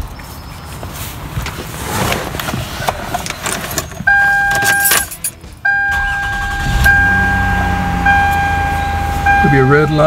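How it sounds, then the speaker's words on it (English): A Toyota Camry's engine cranks and starts, with keys jangling first and then a chime tone, before the motor settles into a steady idle close by. "I'll go ahead and start the car."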